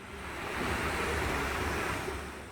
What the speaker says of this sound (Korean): 드디어 비가 오기 시작하네요.